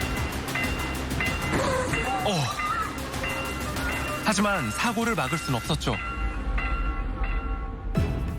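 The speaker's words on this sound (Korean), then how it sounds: "기관사는 건널목 관리원의 수신호를 발견하고 곧바로 열차를 제동합니다." A train braking hard on the rails at a level crossing before hitting a stalled village bus at about 68 km/h, with loud rumbling, rail noise and shifting squeal under a narrator's voice.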